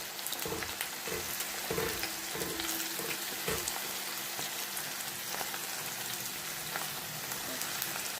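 Spices and turmeric sautéing in hot oil in a pan for Tamil-style brinjal rice, a steady close crackling sizzle with occasional stirring clinks, no talk.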